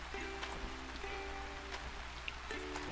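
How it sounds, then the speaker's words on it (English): Steady rain falling in the Gold Rush video game, a soft continuous patter of drops with a few faint tonal game sounds over it, no voices. "Kind of hard to see when it's raining."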